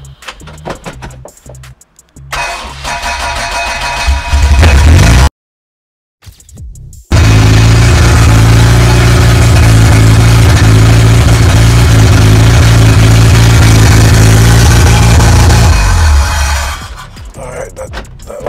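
A Smart car's small engine cranks and catches after a pause, then runs loudly and steadily near the listener, with a brief earlier burst of running before silence, settling down toward the end.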